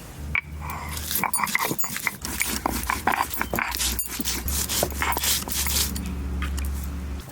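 A dog eats green peas up close, with repeated crunchy bites and chewing interspersed with panting and snuffling, irregular and fairly loud, with a low hum underneath.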